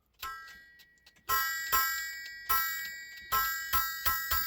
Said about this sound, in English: Different type of gong.